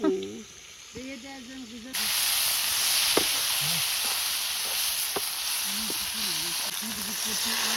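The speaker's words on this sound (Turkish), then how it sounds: "Biberimizi de kızarttık arkadaş" Peppers sizzle and hiss steadily in a hot pan, a constant frying crackle, with a few brief voices and clicks before and during it.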